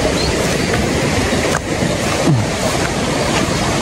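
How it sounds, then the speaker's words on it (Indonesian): A small river flowing ahead on a walking path, heard as a loud, constant rush of water with faint wind buffeting, and no talking. "Ini di depan kita ada sungai kecil."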